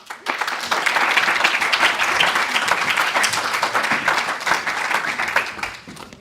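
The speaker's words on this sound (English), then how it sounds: "Keep the applause going" Sustained audience applause at a live startup pitch competition grand final, a dense wash of many hands clapping that holds steady for several seconds before tapering at the end.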